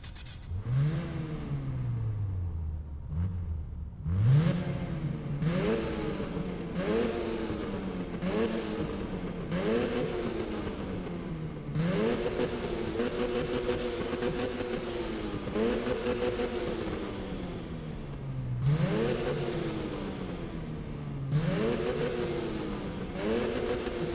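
Car engine in Need for Speed 2015 revving hard and loud through repeated rising-and-falling sweeps, each climb ending in a sharp gear-change crackle, continuous for the whole stretch with no talk.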